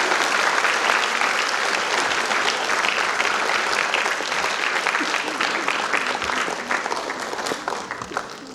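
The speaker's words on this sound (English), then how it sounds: "kindly put your hands together while the souvenir is being released" An audience at a Goa Catholic educational institutions day event claps as a souvenir booklet is released, a long, dense, even wash of applause from a large crowd that tapers slightly at the end.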